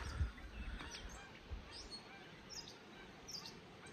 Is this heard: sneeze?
no